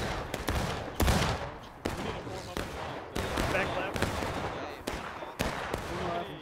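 Repeated musket gunfire from a War of Rights battle, sharp cracks fired every half second or so with overlapping near and distant volleys, loud throughout with voices shouting underneath.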